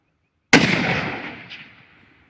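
A Brno rifle fires one loud, sharp shot at an outdoor target test over about 270 metres, and the blast rolls away in a long echoing tail.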